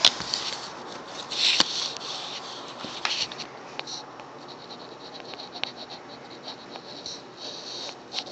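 A pen writing on paper, soft close-up scratching strokes in short irregular bursts, lightly louder at the start and quieter through the rest.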